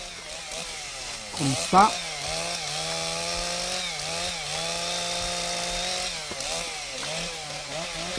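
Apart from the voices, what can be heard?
chainsaw cutting a tree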